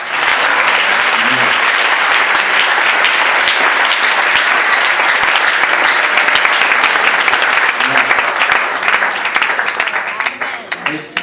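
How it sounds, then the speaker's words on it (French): Loud, dense applause from a wedding crowd fills the space right after a couple is declared married, sustained and even throughout with scattered cheers mixed in. "Un applaudissement."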